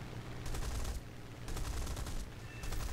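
Cannons on a Supermarine Spitfire fire in three rapid rattling bursts in a War Thunder air battle, harsh and dense over a constant engine roar.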